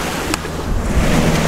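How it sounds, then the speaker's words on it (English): Strong wind gusts roar across open water on Lake Palestine in Texas, a loud steady buffeting with microphone rumble and the wash of choppy waves, heard from a boat. "It's windy. It's blowing its daggum head off."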